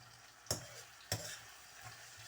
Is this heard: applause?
no